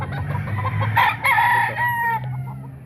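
A ten-month-old Boston Gilmore gamefowl rooster at a market clucks and then gives a short, close crow-like call that rises and falls in the middle of the clip. Low background rumble runs underneath throughout.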